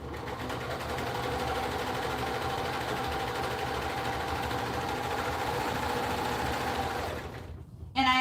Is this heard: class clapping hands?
no